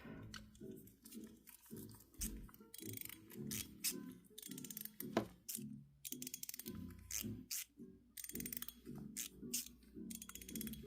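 A stainless steel mechanical slider fidget toy, softened to a muted sound, clicks and slides repeatedly in the hand, giving quiet, irregular ratcheting snaps close to the microphone.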